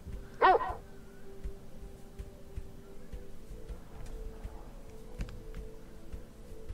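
A single short, sharp dog bark rings out near the start in the adventure game AR-K, followed by quiet room tone and faint ticks.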